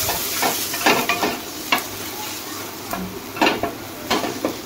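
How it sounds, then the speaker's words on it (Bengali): Eggs fry with spices in oil in a wok-style pan, a steady close sizzle broken by repeated scraping stirs of a spatula against the metal, with no voices. "যাতে ডিমটা ভাজা ভাজা হয়ে যায়।"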